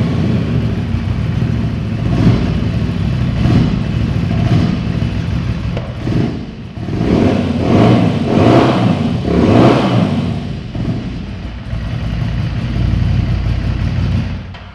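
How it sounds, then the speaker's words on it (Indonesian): A 2016 Ducati Scrambler motorcycle engine with a Remus exhaust revs repeatedly in a garage, loud and close, its rumbling blips rising and falling in a steady rhythm for about fifteen seconds with no talking. "dengerin dulu suaranya kali ya, suara knalpot remusnya."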